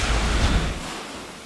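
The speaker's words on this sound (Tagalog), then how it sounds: "abot hanggang kalsada ang hampas ng alon na may tangay pang mga bato" Storm-driven waves carrying rocks crash onto a coastal road in Dipaculao during a typhoon, a loud broadband roar of surf and wind that swells and then eases off.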